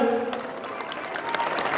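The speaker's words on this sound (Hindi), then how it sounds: "एक बार जोरदार ताली बजाकर" Applause from a crowd, a steady wash of clapping with a voice trailing off at the start, moderately loud and sustained throughout.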